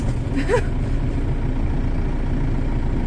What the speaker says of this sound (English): the tractor's getting grouchy